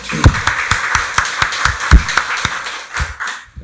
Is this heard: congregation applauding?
yes